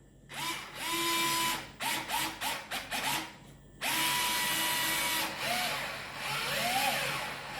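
A Fanttik NEX L1 Pro electric screwdriver drives small screws, its close, steady motor whine running in long bursts broken by a quick series of short start-stop pulses, then a longer run with the pitch shifting as the speed changes.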